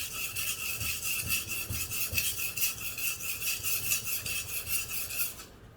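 A kitchen knife stroked up and down on a whetstone at a locked 30-degree angle, giving a steady, rhythmic gritty rasp that repeats about every half second, close and continuous, then stopping abruptly at the end.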